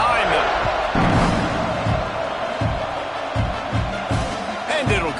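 A college football stadium crowd roars steadily at kickoff in an Oklahoma versus Ohio State game, a dense wash of cheering with a few sharp thuds, while a commentator talks over it.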